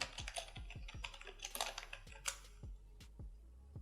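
A search is typed on a computer keyboard: a quick, close series of light key clicks and taps in an uneven rhythm, fairly quiet, with no talking.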